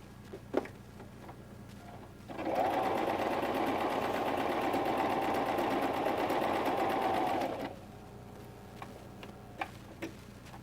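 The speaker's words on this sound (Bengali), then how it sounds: "আমরা এখন মূলত দুটো বাড়তি অংশই সেলাই করে নিচ্ছি।" A sewing machine stitching pieces of a pair of trousers runs in one steady, fast, loud whirring burst of about five seconds, with small handling clicks before and after.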